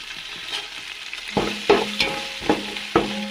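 Whole cinnamon, cloves and cardamom roast in a pan for beef biryani, with about five sharp spatula scrapes and stirs landing close over a soft, steady sizzle.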